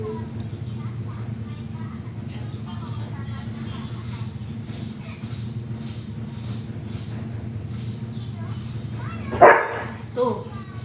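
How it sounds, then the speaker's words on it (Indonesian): Near the end, a dog gives one or two sharp barks above a steady low hum, and people talk throughout. "Yang si Dongan barusan yang menggonggong."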